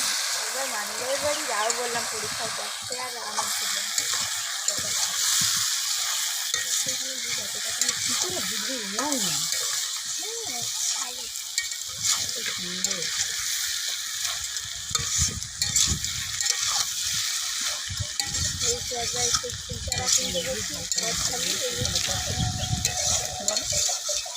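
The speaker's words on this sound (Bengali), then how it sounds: "দেখুন মাংসটা প্রায় কষানো হয়ে এসেছে" Country chicken being stir-fried in a pan sizzles and hisses steadily at close range while spoon strokes scrape through it, and a voice talks over much of the frying.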